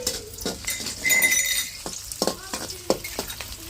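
Garlic and ginger-garlic paste fry in a pan with a soft sizzle, punctuated by a few sharp clinks and scrapes of a spoon against the pan, close by and intermittent.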